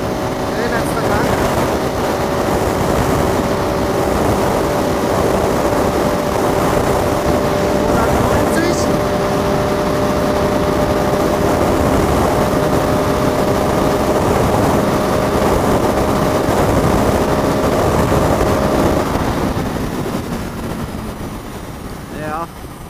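A Husqvarna 701 motorcycle held at top speed in its last gear, with a steady, loud engine drone under heavy wind roar throughout that eases slightly near the end.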